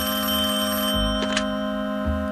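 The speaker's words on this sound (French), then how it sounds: "ce téléphone vient à point nommé" Telephone ringing in a 90s animated cartoon, two short electronic ring bursts separated by a pause, heard clearly over a steady tonal background hum.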